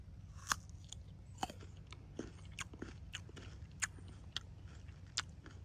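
Someone bites into and chews a freshly cut Japanese persimmon from a fall harvest, giving a series of crisp, irregular crunches close to the mic over a low steady background hum.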